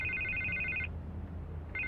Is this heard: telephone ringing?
yes